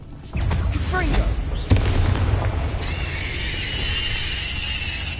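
Confringo fire spell in Hogwarts Legacy: two sharp, loud magical blasts in quick succession with crackling bursts, followed by a sustained bright fiery whoosh and rumble, no talking.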